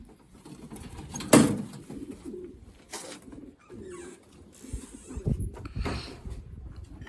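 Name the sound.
racing pigeons cooing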